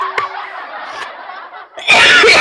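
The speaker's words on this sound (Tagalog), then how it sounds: "Inuubo-ubo ako." A man coughs: a couple of short, close coughs and throaty sounds, then a louder harsh burst at the end, with no talking.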